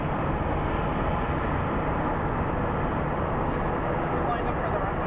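An airplane lines up on the runway at Phoenix Sky Harbor International Airport, a broad, steady engine rumble heard from a distance that holds even throughout, with faint background chatter.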